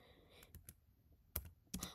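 Quiet, close computer keyboard typing while entering text, a handful of separate soft key clicks spaced irregularly with short pauses between.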